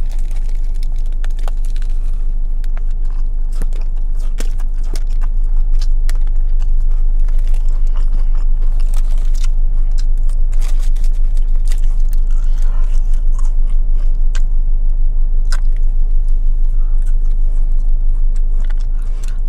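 Biting and chewing a Taco Bell triple decker taco, close and loud, with repeated crunchy bites and wet chewing in an irregular rhythm and no talking.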